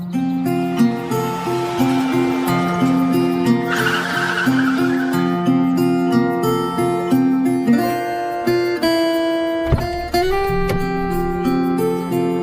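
A car pulling away in a dramatized scene, tires squealing in sustained, wavering tones over a revving engine, loud and close, then a sharp burst near the end, all set over background music.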